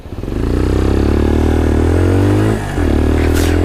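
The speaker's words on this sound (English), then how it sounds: "the exhaust note is unnecessarily loud, and it gets louder as you're riding it" A CFMOTO XO-2 Papio motorcycle's loud exhaust rumbles up close while riding, holding a steady throbbing drone with a brief dip partway through, as wind rushes past.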